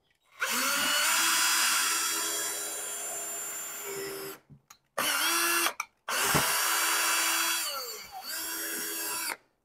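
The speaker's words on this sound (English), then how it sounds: "I'm going to show you how to make a threaded hole here with the PVC" A power drill whines steadily as it bores into a PVC end cap, in three bursts separated by short pauses, the pitch dipping as the bit bites.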